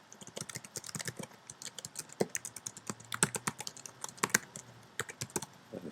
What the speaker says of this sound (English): so now I just type the same information I had before.